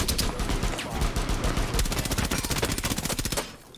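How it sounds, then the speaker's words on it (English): Rapid automatic gunfire rattles in a long sustained burst, shooting a hole in a wall at the Consulate map of Rainbow Six Siege, loud and close, then cutting off abruptly near the end. "You just gotta like shoot a little hole."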